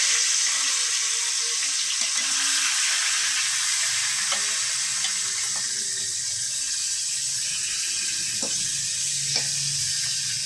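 Two silver carp fish heads and a piece of fish fry in oil with a loud, steady, hissing sizzle close by and a few faint clicks and pops, with no voices.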